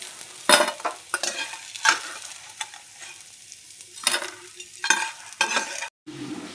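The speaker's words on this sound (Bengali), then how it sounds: "সব বড়াগুলি উল্টে দিয়েছি, নিচে পিঠ ভাজা হয়ে যাক।" Lentil fritters (bora) fry in oil in a wok, close and moderately loud, with irregular bursts of crackling sizzle and scraping stirs over a low steady hiss; no one speaks.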